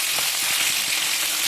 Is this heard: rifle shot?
no